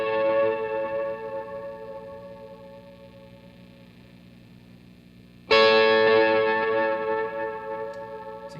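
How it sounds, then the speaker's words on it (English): An electric guitar played through a clean boost pedal sustains a chord, then a fresh strum lifts it louder and brighter, ringing close and alone without any overdrive. "So if you just add the clean boost, this is what it sounds like."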